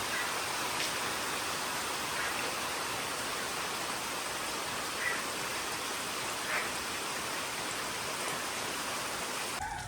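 Heavy rain pours down on a Konkan morning in a constant, dense hiss with no pauses, steady and enveloping throughout.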